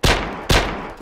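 Two loud, sharp sniper rifle shots from a CheyTac M200 in the survival video game DayZ, about half a second apart, each a booming crack with a trailing echo.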